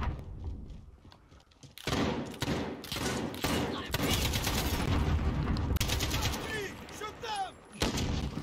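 Rapid automatic AK rifle fire in a Call of Duty Modern Warfare gun game team deathmatch: loud, dense bursts of shots with impacts and clatter, nearly continuous over several seconds, with voices talking underneath.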